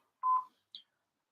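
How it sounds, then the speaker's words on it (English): A voicemail tone sounds on a phone call: one clear electronic beep followed by a shorter, higher blip, alone against silence. "Please leave a message after the tone."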